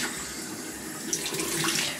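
Lukewarm water runs from a tap over a paintbrush held head-down, giving a steady close splashing rush with slight gurgling shifts.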